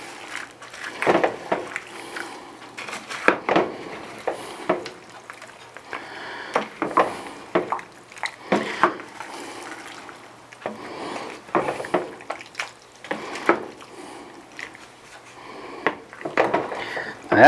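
Beef stew with canned green beans being stirred in a pot: repeated scraping and clinking of a utensil against the metal, with wet sloshing, under ongoing talk throughout.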